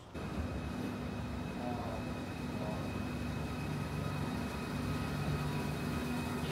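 Interior of a moving train in the UK: a steady, continuous rumble and hum of the carriage runs evenly throughout, with no talking.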